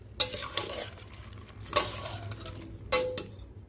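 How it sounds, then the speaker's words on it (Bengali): Soaked whole moong and urad dal fry in a pan and are stirred for khichuri. A quiet sizzle runs under three distinct spatula scrapes and clinks against the pan, heard close with no talking. "এবার ভালো করে নেড়ে চেড়ে একটু ভাজা ভাজা মতো করে নেব।"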